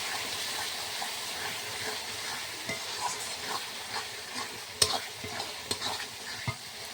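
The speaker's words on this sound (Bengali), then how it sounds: "1 চামচ জিরের গুঁড়ো, 1 চামচ লঙ্কার গুঁড়ো, 1 চামচ হলুদ গুঁড়ো, আর পরিমাণ মতো লবণ দিয়ে আমি ভালো করে মশলাটা কষিয়ে নেব।" Cumin, chili and turmeric powder masala stir-fried in a pan with salt, a soft continuous sizzle with scattered scraping clicks from stirring, fairly quiet and close.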